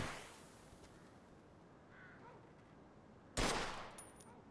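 A single loud gunshot in the video game Mafia II: Definitive Edition, fired at an old wreck, cracking out sharply after a few quiet seconds of low ambient hiss and decaying with a short ringing tail.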